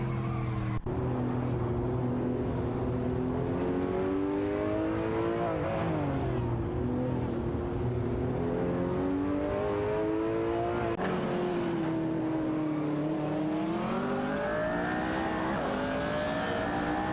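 Race cars in an AI racing video game drone continuously with engine tones that rise and fall through gear changes and turns, several cars layered together at steady loudness.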